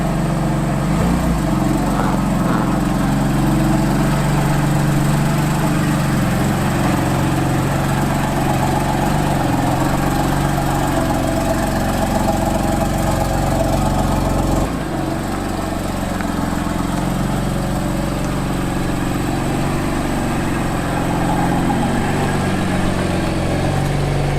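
A 2015 car's engine runs steadily near the listener, a continuous low rumbling drone with only a brief dip partway through and no talking.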